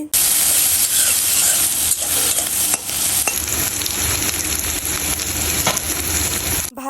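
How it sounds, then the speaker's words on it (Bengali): Onion and small shrimp frying in hot oil, giving a loud, steady sizzle with continuous crackling that fills the whole stretch, close up and without any voices. "পেঁয়াজ আর চিংড়ি মাছগুলোকে তেলের মধ্যে খুব ভালো মতো একটু চেড়ে ভেজে নিতে হবে"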